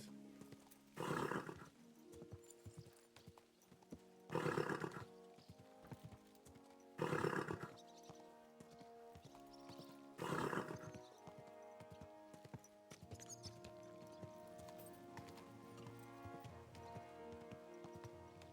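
Horse hooves thud in four separate bursts, spaced a few seconds apart, over sustained background music in the video game Kingdom Come: Deliverance 2.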